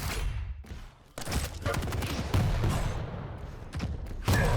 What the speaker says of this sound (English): Airwalker only with long distance rockets